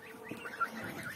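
Chickens and roosters, including hens, on a poultry yard, giving faint, scattered clucking over a low steady background, with no talking.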